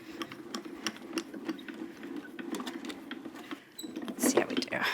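A die cutting machine cranks a sandwich of gray and pink embossing plates with tan matte through its rollers, giving quiet rapid ticking and rattling patter with small clicks and a louder burst near the end, no speech.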